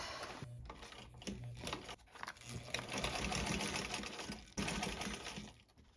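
Sewing machine stitching through a heavy leather jerkin, its needle running in rapid bursts with short pauses between runs, loud and close with no talking.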